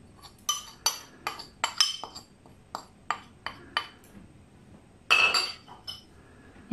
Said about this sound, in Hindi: इन सब चीजों को अच्छे तरीके से मिक्स कर लेते हैं।